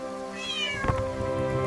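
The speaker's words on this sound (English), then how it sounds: "It is a wet cat" A single drawn-out meow from a wet cat, clear and fairly close, rising then settling into a steady wail with no talking.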